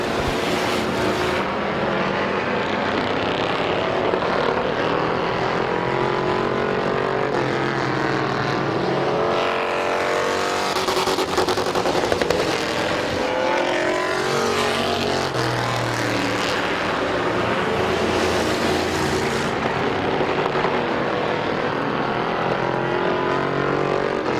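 Race cars roaring around Midvale Speedway, a dense continuous engine drone with rising and falling passes as cars sweep by, loud and sustained throughout with no clear talk.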